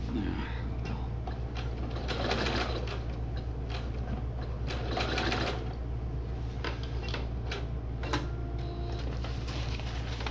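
Steady mechanical whirring and rhythmic clatter of a sewing machine stitching a fishing rod tube cover, running continuously up close with a low hum beneath.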